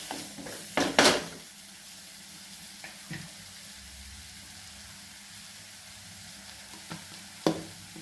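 Capsicum and chili sauté in a pan for mushroom fried rice, a soft continuous sizzle under a few sharp clinks and scrapes of a spatula, near and fairly quiet.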